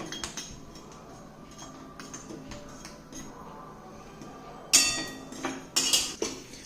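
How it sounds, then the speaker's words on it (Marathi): Jaggery is stirred into ghee in a pan on low heat: soft scraping and metal utensil clinks against the pan, with a few sharper clanks near the end. "अर्धी वाटी जो गूळ घेतलेला आहे ते गूळ त्यामध्ये टाकायचा आहे आणि मंद आचेवर या ठिकाणी सतत हलवत राहायचं आहे"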